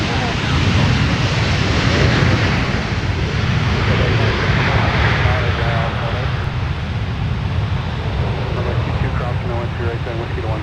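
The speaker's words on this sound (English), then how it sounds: "That 767 for UPS has been an interesting item in the background" A UPS Boeing 767 jet roars at the airport, a steady, broad, loud engine rumble that fills the whole stretch, with a faint voice now and then underneath.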